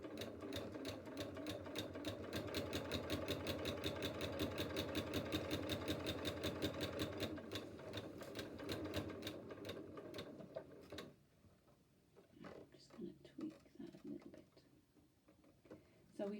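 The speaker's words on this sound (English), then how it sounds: "I'm now going to stitch" A sewing machine stitches sashing onto a quilt block at a stitch length of 3, running in a fast, even mechanical clatter for about eleven seconds, then stopping as quieter handling sounds follow.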